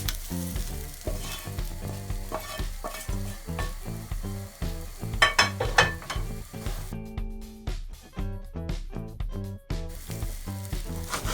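Liver added to rice in a pan for Turkish iç pilav, sizzling steadily while a spoon stirs and scrapes in repeated strokes, with a brief quieter stretch partway through before the frying noise returns.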